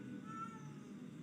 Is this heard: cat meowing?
yes